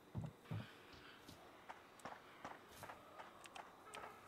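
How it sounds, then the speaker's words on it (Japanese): Faint footsteps in the horror game Horrorfield patter along at a steady walking pace, soft and somewhat distant, with a couple of heavier thuds near the start. "なんか右側で足音聞こえるんですけどね。"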